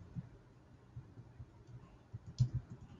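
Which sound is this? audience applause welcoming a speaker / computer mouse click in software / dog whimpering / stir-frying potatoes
computer mouse click in software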